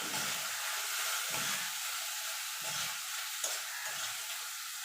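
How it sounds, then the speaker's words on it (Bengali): Ginger paste and green chillies frying with melted tomato in oil, a steady faint sizzle with slow, regular scraping strokes of a spoon every second or so, heard alone. "এবার ভালো করে কষিয়ে নেবো যতক্ষণ মশলা থেকে তেল না ছেড়ে আসছে"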